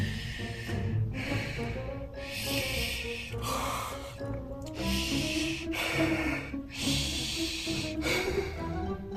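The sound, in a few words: voice imitating monster Herbert panting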